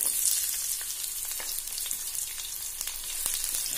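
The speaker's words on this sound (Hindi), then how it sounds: "अब इसमें प्याज डालेंगे, इसको आज हम डीप फ्राई करेंगे।" Onions deep frying in hot mustard oil for a soybean curry, giving a dense, continuous close-up sizzle and crackle with scattered popping bursts and no talking.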